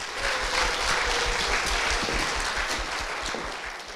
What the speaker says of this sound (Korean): 아버지이신 오수봉 장로님, 어머니 하연자 권사님 박수로 모시겠습니다